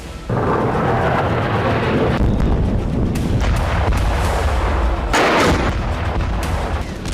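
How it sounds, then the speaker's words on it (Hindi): Dense, continuous rumbling blasts and cracks of heavy explosions at night in Yemen, loud and sustained with sharper bursts throughout. "सोलह अक्टूबर की रात यमन में धमाकों की रात थी।"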